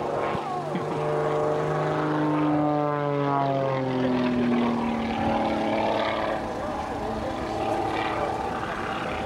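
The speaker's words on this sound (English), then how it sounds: "Mark Jeffries is electric in this aeroplane, the extra 300." An Extra 300 aerobatic monoplane performs at an airshow, its propeller engine droning loud and continuous with strong pitch sweeps as it climbs and dives through its display, while an announcer speaks over it.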